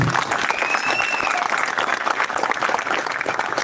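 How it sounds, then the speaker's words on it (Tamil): A crowd at a political speech event claps steadily in dense, sustained applause, with a faint whistle rising above it. "கைத்தட்டல் கொடுங்க"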